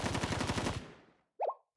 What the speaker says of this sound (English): it's just the sound of gunshots